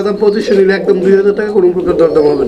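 Pigeons at a pigeon farm coo softly beneath a man's steady, close talking that runs through the whole stretch.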